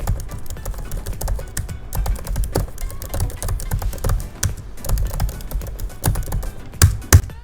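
Typing on a MacBook keyboard, rapid and close, with a steady stream of light key clicks and a few louder taps near the end.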